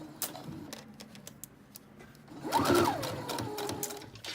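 A sewing machine bastes stitches across the upper edge of pleated fabric. It is quiet at first, then a steady, close mechanical whir with fast ticking runs from midway to the end.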